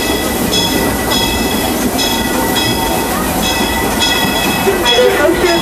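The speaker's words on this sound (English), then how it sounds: "we are steaming our way towards Mickey's Toontown Depot, your stop to meet Mickey, Minnie, and all t" The Disneyland Railroad steam train runs along its track, loud and close, with a steady rolling rumble, rhythmic clickety-clack of wheels over rail joints and a few faint squeals.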